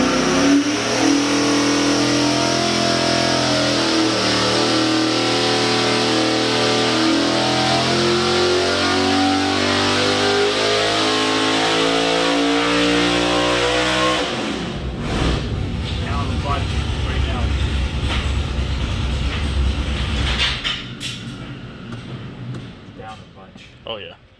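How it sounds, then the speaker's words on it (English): A carbureted engine on a dyno revs hard through a sustained full-throttle pull, then the loud engine roar cuts off and winds down. Near the end there are scattered clatters and some voices. "this is pull 1 with the carburetor"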